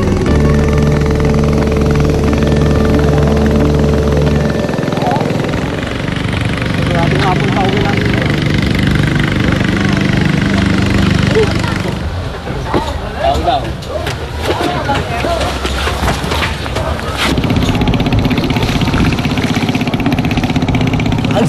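A motorboat engine towing unpowered boats toward river rapids drones steadily and loudly throughout, with rushing water and wind noise, and a voice speaking over parts of it.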